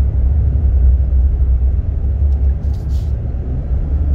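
A 2023 Nissan Frontier Crew Cab pickup truck downshifts under light throttle, giving a loud, steady, low engine rumble from inside the cab with no talking.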